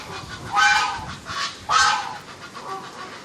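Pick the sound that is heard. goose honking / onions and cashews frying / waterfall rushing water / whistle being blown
goose honking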